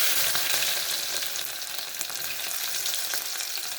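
Garlic fries in a pot as the base for a Konkan fish curry, giving a bright, steady sizzle and crackle with small popping bursts, close and continuous.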